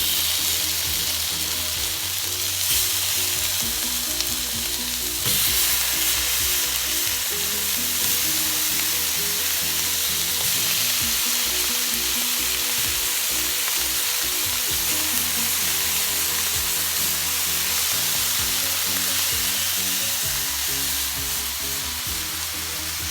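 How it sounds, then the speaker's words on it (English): Wagyu steaks searing on a hot grill, a loud continuous sizzle and crackle that stays steady and close throughout, with occasional soft clatter and no voices. "let's throw these things on the grill"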